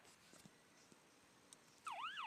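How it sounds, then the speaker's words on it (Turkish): A distant emergency vehicle siren wails up and down in the final half-second after a quiet street background, rising suddenly in loudness with no speech. "Bir sürü sirenli araba var arkadaşlar."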